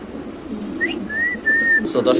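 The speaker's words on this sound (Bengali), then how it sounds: "কবুতরের ডাকটা দেখলে একদম মনটা জুড়াই যায়" Pigeons at a pigeon farm selling Bombay birds give soft, whistly coos in a few short rising and level notes, close by, with faint background voices and noise.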